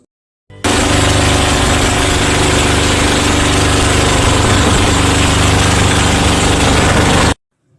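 A loud boat engine starts abruptly and runs at a steady, rattling drone for several seconds, close by, then cuts off.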